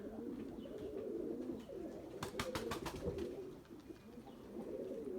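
Purebred Erzurum white pigeons coo in a low, steady murmur, with a quick run of sharp flapping claps partway through over faint outdoor ambience.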